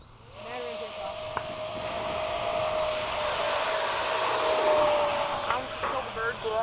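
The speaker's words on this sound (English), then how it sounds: "the Avanti makes that funny noise when you hit full throttle and it's not really going fast. That woo noise." Piaggio Avanti twin turboprops run up to full throttle on the takeoff roll, giving a loud, steady, rising whine with a droning tone that swells and holds close by.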